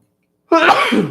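A single loud, abrupt sneeze right up close, bursting out after a moment of silence.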